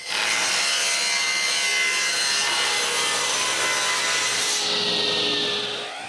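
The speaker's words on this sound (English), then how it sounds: "I route a V-profile on both sides of some strips and cut them in half." Router shaping a V-profile along bamboo strips, then cutting them, a steady loud whirring, grinding cut with no pauses, running close up for about six seconds before easing off at the end.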